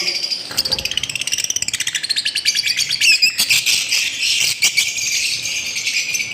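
Pet birds in a breeding setup, including black ice and albino black ice color varieties, chirp and tweet rapidly and continuously at close range, with dense overlapping high calls and a brief rattling flurry partway through.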